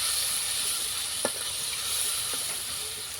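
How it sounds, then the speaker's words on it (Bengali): Spice masala, mixed with a little water, fries in hot oil in a pan, giving a continuous close sizzle with a couple of faint stirring ticks. "এখন আমি মশলাটা ভালো করে ভেজে নেব।"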